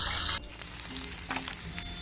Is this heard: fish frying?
yes